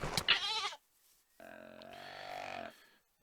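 Goats bleating in Minecraft, a sustained harmonic bleat lasting over a second, loud and close, following a short burst of speech-like sound.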